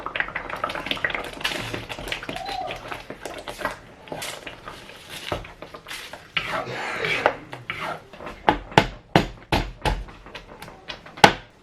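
Ground shallot, garlic, onion, ginger and chili paste scraped and stirred in a pan while sautéing, with rasping utensil strokes that give way to sharper, louder clatters of a spoon against the pan toward the end.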